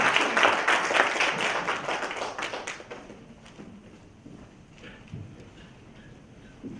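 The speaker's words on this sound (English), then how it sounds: "Could we have a huge round of applause?" Applause from a Toastmasters club audience, dense clapping for about three seconds that thins and fades into quiet room murmur with a few stray claps.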